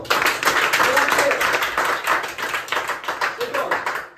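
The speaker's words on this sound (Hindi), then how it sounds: "वेरी गुड, तालियां बजाओ" Classroom students clapping for a correct answer in a maths lesson, a dense, fast patter of many small hands filling the room for about four seconds with a few voices faintly underneath.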